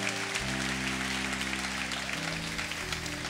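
Applause from a church audience during a sermon, a steady dense wash of clapping filling the space, with a sustained low musical drone underneath throughout.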